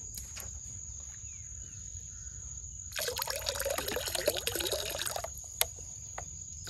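Liquid urea pours into a water mixture for a sugarcane-field insect spray, a short burst of splashing trickle midway over a quiet outdoor background with a faint steady insect whine.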